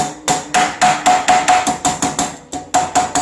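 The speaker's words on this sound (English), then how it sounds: "It's a rubber hammer or something." A rubber hammer taps on the frame of a V-King 3D printer during assembly of the Y carriers and X axis, a quick series of about a dozen sharp, evenly spaced knocks, loud and close with no talking.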